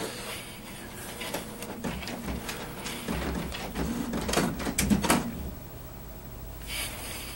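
Mechanical whirring and clicking from a Canon Maxify iB4050 inkjet printer as its mechanism moves during initial setup, a run of short bursts and rattles that stops abruptly, leaving quiet room tone.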